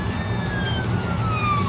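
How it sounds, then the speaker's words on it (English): A police patrol car's siren winds down in a smooth, steady falling wail over a low engine rumble inside the car. "Sirens off."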